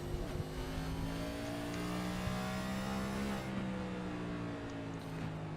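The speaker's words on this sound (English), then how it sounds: "You hear that throttle rhythm that these guys really have to work with." A video game race car engine drones at North Wilkesboro Speedway with a rising and falling throttle pitch, steady and continuous at moderate loudness, with no voices.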